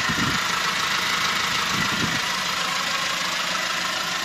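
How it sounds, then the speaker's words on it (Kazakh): The engine of a 2017 Hyundai Porter 2 automatic truck runs at idle nearby, a steady rough rumble with a few low knocking pulses in the first two seconds and no talk. "Мотору менен тааныштырсак, иштеп турат."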